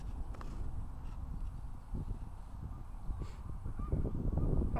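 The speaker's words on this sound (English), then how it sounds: "Bathing geese have left." Geese calling outdoors as a bathing flock takes off and moves closer, with low rumbling activity and a few faint honks rising over a steady background.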